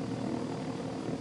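A helicopter engine idles in the Take On Helicopters game, a steady, dense rotor-and-turbine drone with a low throbbing beat, loud and unbroken throughout.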